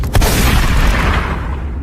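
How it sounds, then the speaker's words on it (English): A gunshot sound effect plays from a phone through speakers: a single loud boom that hits sharply and then rings off in a long, slowly fading tail. "The sound of a gunshot echoed out of the speakers."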